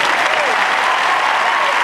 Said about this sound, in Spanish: Hijos, aplaudan.